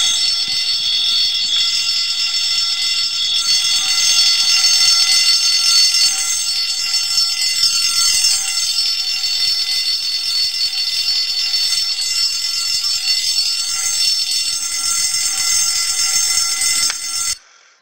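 Fire alarm bells in a Roblox fire alarm system test ring loud and continuous as a harsh, high metallic clatter, without pause for most of the stretch before cutting off abruptly at the end.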